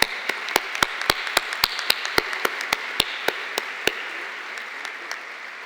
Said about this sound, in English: let's give our faculty and staff a big round of applause